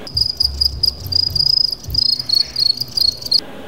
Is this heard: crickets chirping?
yes